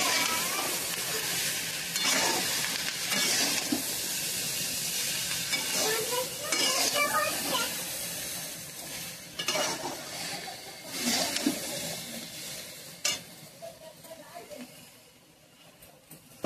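Taro stolon curry sizzles in a frying pan while it is stirred, with a continuous close frying hiss and irregular scraping strokes. A voice talks over part of it, and the sound thins out toward the end.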